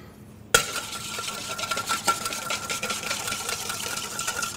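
A dressing of toasted cumin, mustard, salt and black pepper gets mixed in a bowl: a sudden start, then busy scraping, clinking and whisking strokes continuing close up, with no talking.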